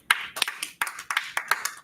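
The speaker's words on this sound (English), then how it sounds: "Clap it up, man." Several people clapping in a small hall, a burst of crisp, close hand claps in an uneven rhythm.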